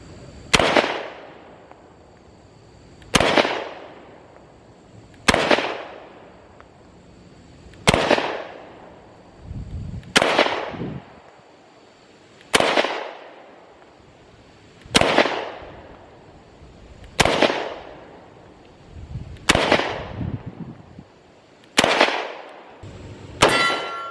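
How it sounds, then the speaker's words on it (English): Ten sharp 10mm pistol shots from a Smith & Wesson M&P fired at a target ten yards away, loud and close, spaced evenly about two to three seconds apart, each with a short ringing decay and no talking. "these are going to be 10-yard shots at an 8-inch circle"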